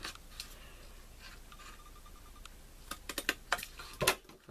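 Scissors make several crisp, close snips cutting a thin sliver of paper for a matchbook-style embellishment box, faint at first and then a quick cluster of louder clicks near the end.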